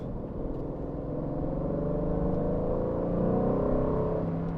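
An Aston Martin's engine accelerates in a steady, close, loud rumble, its pitch climbing as the revs rise, with no voices over it.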